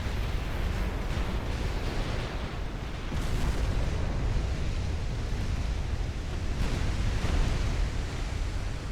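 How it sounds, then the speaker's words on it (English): Torpedo hits detonating against warships in the naval battle game Ultimate Admiral Dreadnoughts: a sustained, loud rumbling roar of blasts and churning water, swelling around the middle and again near the end, with no talk. "Massive damage from that spread of torpedoes that hit her."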